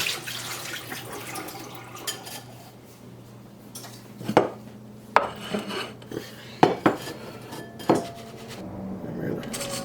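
Soaked beans are strained in a kitchen, with metal pot and strainer clanks, several sharp knocks and a light wash of draining water beneath, heard close with no talking.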